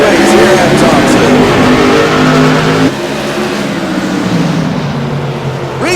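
CRA modified race cars accelerate hard off the green flag start at Thompson Speedway, a loud, continuous roar of revving engines close by that eases slightly partway through, with a voice over it.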